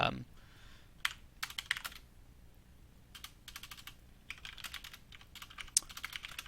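Someone types code on a computer keyboard in uneven bursts of rapid key clicks with short pauses between, close and fairly quiet, with no talking.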